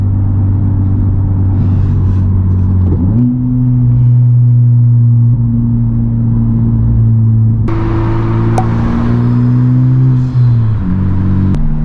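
A 2021 Honda Civic Type R fitted with a MAP track exhaust revs loudly and close, a steady droning note that steps up in pitch, holds, then drops back.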